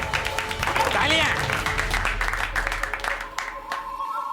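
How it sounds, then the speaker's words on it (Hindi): Audience applause rises and fades in a television fantasy show, clapping blended with background music and voices talking over it. "तालियां।"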